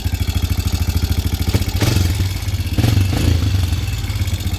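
A Honda Recon TRX Fourtrax ATV engine runs just after starting, with a steady, close, loud putter of rapid pulses and a few brief swells in revs.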